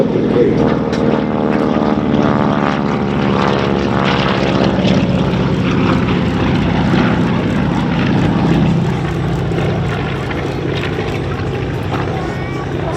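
A Grumman F6F-5 Hellcat propeller fighter passes at an air show with a throbbing radial-engine drone whose pitch slides as it goes by, loud then slowly fading, under an announcer's commentary.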